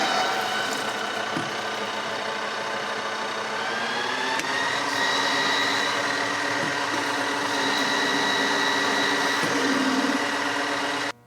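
A lathe facing the back face of a part on its second operation during work on a battery-powered slow-speed carbide grinder, giving a steady, continuous machine whir and hum with a slight shift in pitch partway through, close and unbroken, with no talking.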